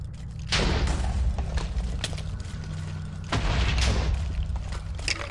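Heavy booming blasts with deep rumble roll out in two loud waves, dense and continuous, with crackling debris over the low thunder.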